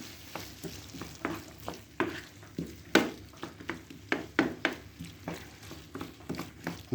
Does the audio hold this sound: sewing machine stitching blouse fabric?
no